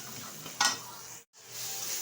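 Spice masala frying in a pan for egg bhapa curry, a steady soft sizzle with a brief louder scrape of stirring, then a moment of silence before the sizzling resumes.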